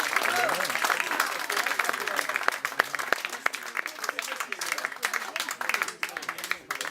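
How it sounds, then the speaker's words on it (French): Audience at an eco-gardener contest event clapping for the winner, a dense sustained round of applause with scattered sharp claps and crowd murmur, steady for several seconds. "On peut l'applaudir."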